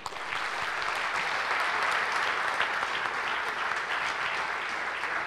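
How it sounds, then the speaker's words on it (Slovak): Steady, dense applause from an audience at an athletics hall of fame awards ceremony, sustained and even throughout with no voices on top. "gratulujeme, veľký potlesk"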